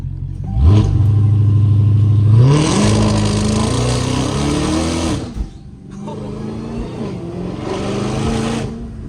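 A 1000-horsepower Dodge Hellcat engine revving hard, climbing in pitch, then blipping and dropping on downshifts, loud and close, with a second rising pull toward the end.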